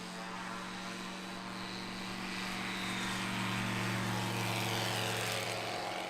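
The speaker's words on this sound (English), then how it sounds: "I'm going to be ready here for another high alpha Big Tuna takeoff" Model airplane nicknamed Big Tuna doing a steep high-alpha takeoff from a grass field, its engine and propeller droning loudly and steadily, swelling slightly as it climbs away.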